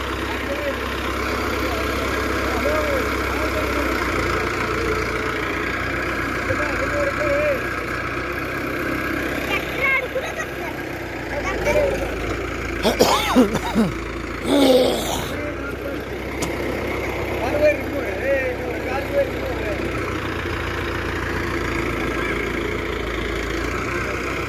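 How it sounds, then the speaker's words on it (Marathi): A tractor engine runs steadily close by during an attempt to reverse near a well, a continuous low rumble with a few louder surges partway through. "काय रे तिथं ट्रॅक्टरने काय रिवर्स न जात आहे."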